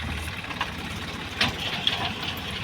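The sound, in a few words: tractor engine running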